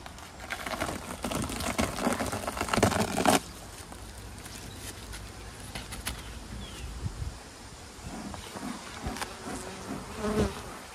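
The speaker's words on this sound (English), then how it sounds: "A lot more bees up here." Honey bees swarm around a large hive, a dense, continuous close buzz that is loudest in the opening seconds, then settles into a steadier hum with individual bees droning past.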